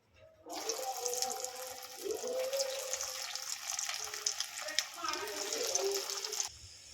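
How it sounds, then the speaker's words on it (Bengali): Square-cut egg and lentil cakes frying in hot oil give a steady, fairly loud bubbling sizzle that starts abruptly and runs for several seconds before cutting off. "এদিকে তেল বসিয়ে দিয়েছি আর এগুলোকে একটু ভেজে নেব"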